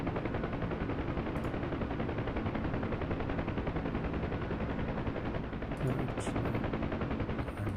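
Aircraft machine guns hammer away in the WWII-era flight sim DCS World, a continuous dense burst of fire that runs almost unbroken, loud and close, with brief mechanical clicks near the end.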